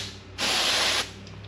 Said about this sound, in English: So the contact cleaner will get the corrosion off of there.